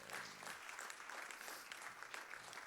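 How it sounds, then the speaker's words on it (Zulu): A church congregation applauding during a sermon, a continuous patter of many hands clapping at moderate distance, fairly even in intensity for a few seconds with no voices over it. "Awuyishayela ihlombe elikhulu."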